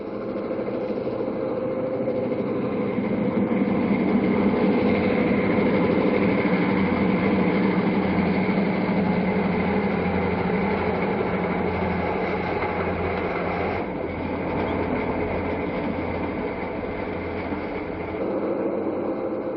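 Westbound diesel passenger train number 17 rolling past near Rifle, Colorado, a continuous loud rumble of engine and wheels with a brief dip and shift partway through, heard alone.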